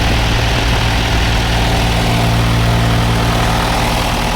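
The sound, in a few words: backhoe engine started and idling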